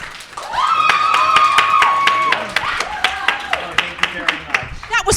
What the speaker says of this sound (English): most applause for Michael Kushner.